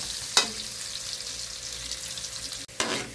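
Ginger slices frying in hot oil give a steady close sizzle, with a couple of sharp bursts of spatter and stirring partway through and again near the end.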